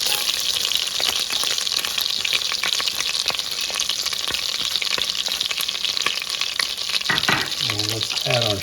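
Garlic frying in about two tablespoons of melted butter for a creamy spinach soup gives a loud, steady, close sizzle throughout, with brief scraping and stirring clatter near the end.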